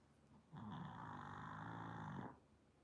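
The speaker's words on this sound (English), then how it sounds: "There she is snoring." Animal snoring heard up close, a single drawn-out raspy breath lasting under two seconds, rising abruptly and stopping, faint and otherwise alone in a quiet room.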